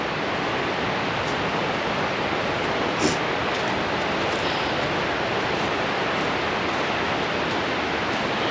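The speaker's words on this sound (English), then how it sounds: "And this is Broadhead Creek" Broadhead Creek in Paradise Price Preserve in the Poconos rushing past in a constant, dense roar of flowing water, close and unbroken, with only a faint tap near the middle.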